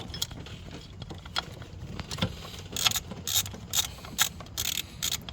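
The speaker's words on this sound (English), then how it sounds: "but just use a ratchet" A ratchet clicks in short bursts while a bolt is tightened on the ignition coil of a 2000 Chevy Tahoe, the quick pawl clicks coming in several clustered runs, close and fairly clear.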